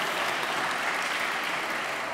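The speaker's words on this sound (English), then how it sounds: "Let's have a round of applause." Sustained audience applause at a fireside chat with Sarah Leary of Nextdoor at a Berlin tech conference, a dense, steady wash of many hands clapping that fills the whole stretch without a break.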